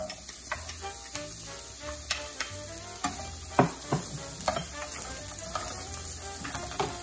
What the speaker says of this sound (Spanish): tenemos nuestro sartén precalentándose con un poco de aceite de olivo. Lo primero que agregaremos será nuestra cebolla.